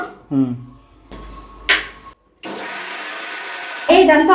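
A mixer grinder whirs steadily for a couple of seconds after a brief click, grinding ripe red chilli chutney, with a voice heard before and after it.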